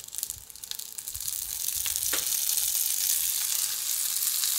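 Noodles glazed with sesame oil and sweet chili paste fry in a hot pan, a steady close sizzle that swells and holds loud after a few soft stirring clicks.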